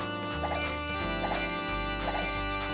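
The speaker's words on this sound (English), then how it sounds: "Nice chimey bell" A chimey bell attack effect from the Paper Mario video game rings in bright tinkling jingles over steady game music, repeating about three times, clear and up front with no talk.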